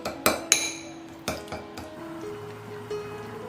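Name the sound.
mashing red fermented tofu (nanru) in a bowl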